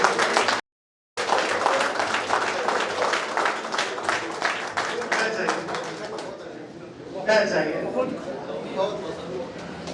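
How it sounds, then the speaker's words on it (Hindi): An audience at a CISF honour ceremony at a meditation training centre bursts into loud, dense clapping that fills the room, breaks off for a moment, then resumes and slowly thins out. "एक दूसरे के लिए जोरदार ताली बजाइए।"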